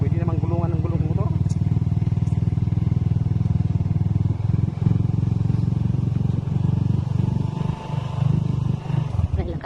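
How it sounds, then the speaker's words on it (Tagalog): A motorcycle engine rumbles loudly and steadily close by, with people talking over the noise. "Ayan o, mayroon na nga mga motor dito."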